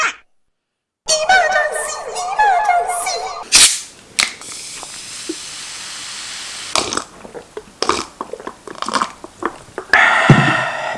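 Braised pig's trotters (jokbal) dipped in wasabi sauce are eaten up close, with repeated bites, crunches and wet chewing in bursts separated by brief silences and some rustling.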